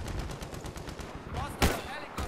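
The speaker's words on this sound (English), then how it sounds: "this gun sounds weird. That is a strange noise" Gunfire from a weapon in the first-person shooter Battlefield 3, a rapid train of sharp shots followed by a couple of louder isolated bursts, close and punchy.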